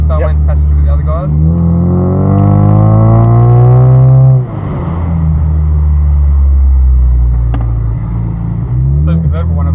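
A convertible Ford Mustang runs on a race track with the roof down, its engine droning loud and close, pitch climbing through a gear then dropping at a shift before rising again.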